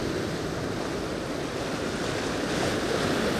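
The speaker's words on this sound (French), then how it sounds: "avant que le ressac des vagues" Steady roar of ocean waves breaking and surf washing back along a shore during isofishing, loud and continuous with no talk.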